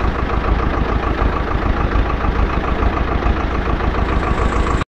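A farm tractor's engine running at a steady, loud rumbling drone with a fine rapid chug, continuing evenly for several seconds before cutting off abruptly.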